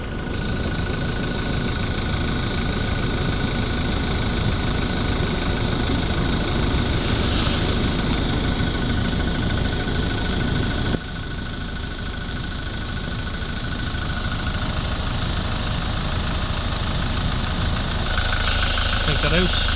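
A Toyota Hilux D4D diesel engine idles steadily nearby with a constant knocking rumble that continues throughout, with no change in pace.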